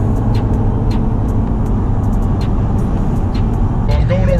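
A loud second-generation single-cab Cummins diesel pickup rumbles steadily, its heavy engine drone dominating while faint ticks and clicks sound above it.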